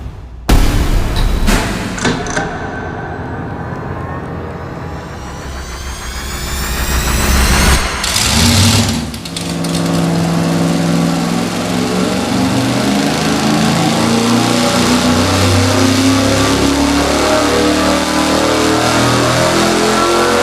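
Car engine fitted with a large carburetor on a dynamometer. It barks through sharp blips, climbs in a long, loud rev, drops back briefly, then holds a hard, sustained roar to the end.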